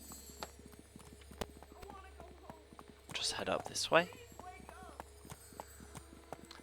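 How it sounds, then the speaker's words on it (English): Soft, squishy clip-clop footsteps in Neverwinter Nights plod along steadily, with a brief burst of louder movement midway and a quiet voice speaking over them. "Like sort of clip-clop noises, but it's a bit more squishy."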